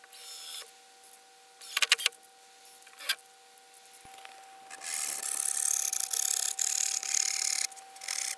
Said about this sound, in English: I'm going to screw it so that I can put it back